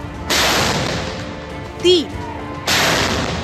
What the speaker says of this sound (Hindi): इसी तरह 21 तोपों की सलामी लाल किले से दी गई